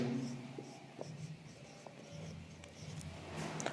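Letters being written on a board give faint, scratchy strokes in short bursts against a low background hum.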